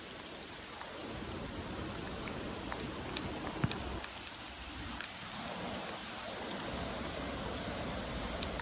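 Heavy rain pours in Oman during flash flooding, a dense, steady hiss of water hitting surfaces with a few sharper drop splashes, continuous and fairly close throughout, with no one speaking.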